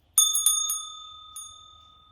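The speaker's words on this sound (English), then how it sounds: "I have a bell here, which I've used already to cleanse the air." A small hand bell is rung to cleanse the air: three quick bright strikes followed by a fourth, each leaving a clear, sustained metallic ring that slowly decays, close and alone.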